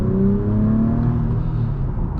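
Acura TLX Type S (2024) car engine running in sport mode, a steady close harmonic engine hum with faint rising tones, continuous for about two seconds.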